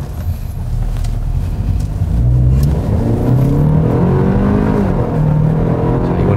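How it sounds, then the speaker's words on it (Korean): A Kia K7 2.5 GDI engine drones loudly from inside the cabin, its pitch climbing steadily as the car accelerates, with a low rumble of road noise underneath. "그래도 꽤나 그 큰 엔진음을 들을 수가 있습니다"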